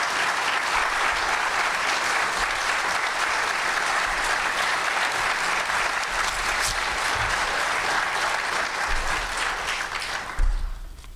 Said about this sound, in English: if you guys want to give the candidates a round of applause